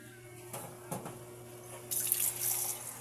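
Water pours into a pan of softened chayote, a faint tap-like trickle that becomes a brighter splashing stream in the final second, without talk.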